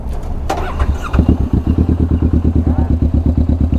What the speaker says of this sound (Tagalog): Start ko na yung motor.